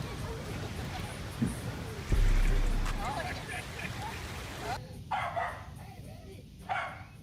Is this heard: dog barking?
yes